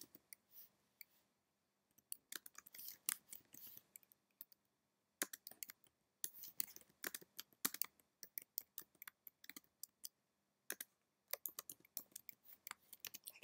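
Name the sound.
typing on a computer keyboard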